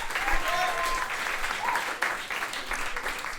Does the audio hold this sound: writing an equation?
no